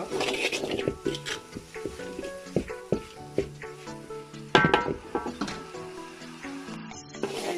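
Ground spice powder stirred in a pan over low heat for a Tamil-style fish and potato curry filling, with steady soft sizzling, scraping utensil strokes and occasional clinks close by, no talking.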